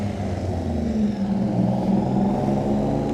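Race cars drive past at the Nürburgring, a steady close engine roar and whir that swells slightly as they go by, with no talk over it.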